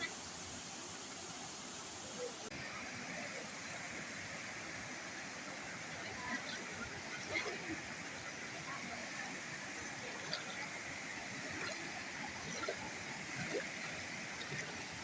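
A waterfall roars in an outdoor setting, a steady, dense rush of falling water with occasional splashes that fills the whole scene without letup.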